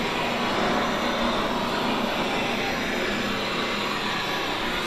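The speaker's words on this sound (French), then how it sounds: "J'ai l'impression d'entendre un avion derrière." An airplane drones steadily in the background at a bunker: a continuous broadband roar that holds level throughout, with no voices.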